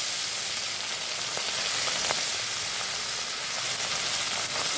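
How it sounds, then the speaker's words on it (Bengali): Fish frying in hot mustard oil in a kadai, a dense continuous sizzle and hiss with a few faint pops, close and steady throughout. "এবার আমি একে একে মাছগুলো দিয়ে ভেজে নেব"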